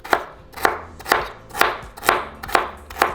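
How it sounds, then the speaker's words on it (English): A knife chops carrots into small squares on a cutting board, seven crisp, evenly spaced thuds about half a second apart, close and clear with no talking. "we're going to cut our carrots the same way"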